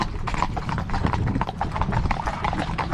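A horse trots, its hooves clip-clopping in a quick, steady rhythm, close and clear with no talk over it.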